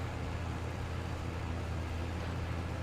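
Tractor engine in Farming Simulator 22 running as a steady, continuous low drone, with a constant rumble and broad hiss held at an even level throughout.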